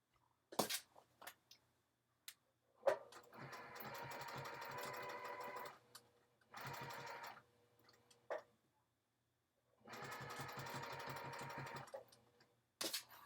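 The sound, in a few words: sewing machine stitching close to the edge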